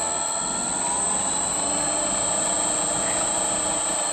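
A Sieg mini lathe motor runs in reverse during testing of its speed control panel, a steady continuous whine with a high electrical tone, close and unbroken.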